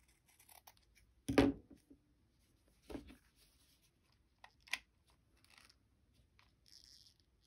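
Scissors snip through fabric while ruffled fabric flowers are trimmed, giving a few separate close cuts with quiet pauses between them.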